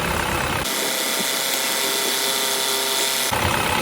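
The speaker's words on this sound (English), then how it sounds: "now I'm going to put the drain plug back and tighten it" A power tool whirs steadily for about three seconds while tightening the transmission drain plug under a Toyota Camry, close and loud, with a mechanical hum around it before and after.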